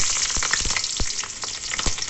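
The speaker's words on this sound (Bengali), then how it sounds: "তেল গরম হয়ে গেছে, এবার কালো জিরে আমি ফোড়নে দিয়ে দিলাম, কাঁচা লঙ্কা চিড়ে রেখেছি" Green chillies and nigella seeds crackle and sizzle in hot oil for a Bengali white bean mustard curry, with a steady close frying hiss broken by sharp pops and spatters, and no voices.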